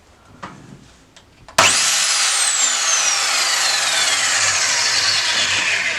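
An Excel 8.5-inch 216mm 1500W mitre saw with a 24-tooth blade spins up with a sudden loud whine and cuts through wood, the high screaming tone sustained close and loud after a few faint clicks.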